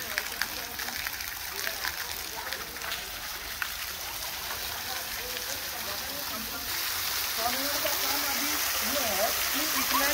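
Water jets of a musical fountain run by a VFD hiss and splash steadily, growing louder and fuller partway through as the flow is turned up, with someone talking intermittently over the rushing water.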